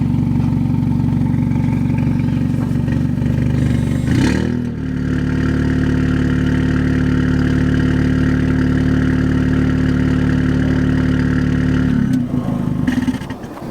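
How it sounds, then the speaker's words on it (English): An Audi A3/S3 exhaust idles with its valves open, a deep, throaty burble, steady and loud up close, with a brief blip of revs partway through and another near the end. "idling, it was a lot more distinct and a little more throaty"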